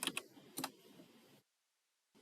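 A few quick, crisp keystrokes tap on a computer keyboard in short clusters, close and fairly quiet, then the sound drops to silence.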